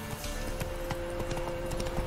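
A horse gallops in The Witcher 3, with rapid, even hoofbeats clip-clopping close and loud against a steady game soundtrack hum.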